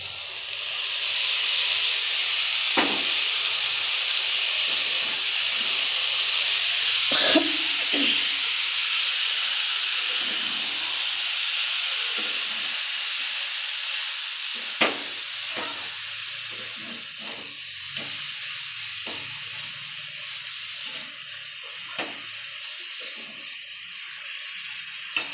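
Boiled banana flower tipped into a pan of fried spices for a vegetarian mochar ghonto, giving a steady close sizzle and hiss with scattered stirring clicks and scrapes, no talking.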